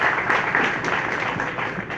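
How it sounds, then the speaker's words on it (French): Steady broadband applause from a crowd, sustained and even throughout, with a faint voice or two mixed in. "Applaudissez chaudement, s'il vous plaît."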